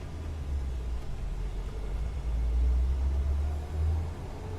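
A modified Jeep Wrangler Sport TJ engine pulls in second gear with a steady, loud low rumble that swells partway through as it accelerates, with no voices over it.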